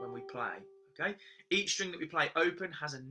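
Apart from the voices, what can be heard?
No everyday noise stands out behind the speech.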